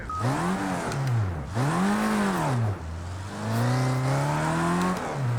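Open-wheeled race car engine in a PC racing game, revving up and down through repeated sweeping pitch rises and drops as it accelerates and shifts, loud and close with no talk.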